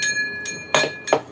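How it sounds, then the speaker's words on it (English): A ringing bell sound effect plays on a live stream, struck four times at a quick pace: two lighter chimes, then two brighter, louder strikes, each leaving a clear sustained tone. "You get a bell, Darren."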